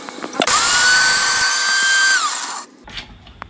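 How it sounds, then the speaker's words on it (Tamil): A kitchen mixer grinder blends radish, dried chillies and garlic in one loud, close burst of high whirring that holds steady for about two seconds, then winds down and stops. "நான் இதிலையே மிக்ஸ் பண்ணி அரைச்சிட போகிறேன்"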